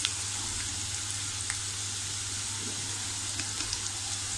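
Chopped onion frying in a pan on medium gas heat for a Malvani-style ridge gourd dish with fresh coconut, with a continuous close sizzle and light crackles plus a low steady hum underneath.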